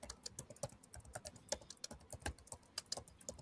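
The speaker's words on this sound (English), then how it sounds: "Are you typing on my YouTube there, Megan?" Rapid, steady clicking of a computer keyboard being typed on, close and fairly quiet, continuing without pause.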